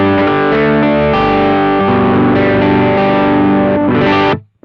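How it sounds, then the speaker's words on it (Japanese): Electric guitar chords played through a BOSS OD-3 overdrive pedal ring out loud and close, with a thick, saturated distortion that sustains, then cuts off abruptly at the end. "コードで鳴らした時に非常に綺麗な気持ちいい歪みサウンドです"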